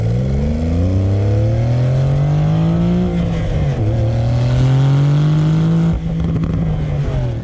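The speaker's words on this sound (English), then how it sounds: "In sport mode, letting the exhaust open up." A 2020 Porsche 911 Carrera S Cabriolet engine revs hard and loud in sport mode with the exhaust open, its note rising and falling in pitch through several pulls, close and continuous with no talking.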